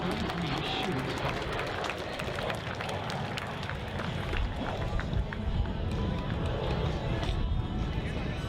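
Outdoor airshow crowd applauding a T-33 Shooting Star jet, a sustained, fairly distant wash of many hands clapping, with crowd noise blended in.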